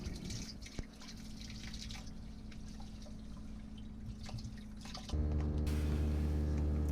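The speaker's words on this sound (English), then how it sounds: "So I drained out all of that fresh water to make sure we got as much water out of the tanks as possible." Fresh water draining from a boat's plumbing pipe into the bilge while winterizing: a soft steady trickle with occasional drips, then a louder rushing, humming flow takes over near the end.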